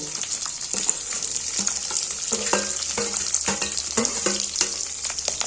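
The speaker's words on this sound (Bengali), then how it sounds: "পনির ভেজে যে তেল আছে ওই তেলের মধ্যে এখানে পেঁয়াজ, ক্যাপসিকাম, কাঁচা লঙ্কা সবই আমি ছেড়ে দেব" Onion, capsicum and green chillies fry in the oil left from frying paneer in a kadai, producing a loud, dense close-up sizzle broken by repeated stirring scrapes.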